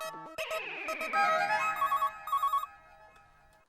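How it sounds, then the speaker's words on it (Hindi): A telephone rings as a call goes through to a school, a bright electronic ringtone of repeated melodic bursts that fades into a softer tail, loud and alone with no talk. "मैं क्या है दरअसल स्कूल में ही फोन लगा रहा हूँ"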